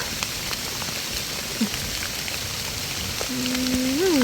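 Steady rain patters across the whole clip, a dense hiss of drops on a surface, with a faint tonal whine rising near the end.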